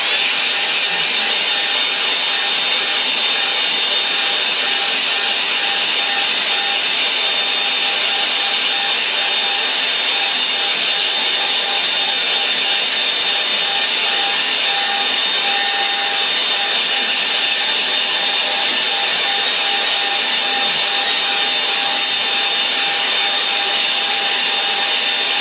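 A hair dryer drying a landscape painting runs steadily for the whole stretch, a loud, even whooshing roar with a faint whine and no breaks.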